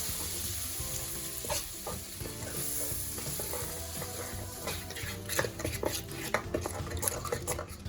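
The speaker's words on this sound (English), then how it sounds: "be careful because it's going to be very hot and splattering" Paneer tikka mixture sizzles and splatters loudly in a hot pan, a constant frying hiss broken by clinks and scrapes of a utensil stirring against the pan, heard close with no talking.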